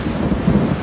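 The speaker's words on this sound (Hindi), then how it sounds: "मुख्तलिफ इलाकों में तेज बारिश हुई" Heavy rain pours steadily with a deep rumble of thunder rolling underneath, a dense continuous wash of loud storm noise with no voices.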